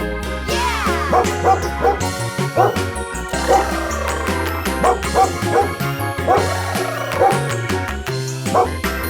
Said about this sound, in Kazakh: итер гав-гав дейді